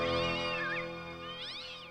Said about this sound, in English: Now that might be the quickest cat you ever saw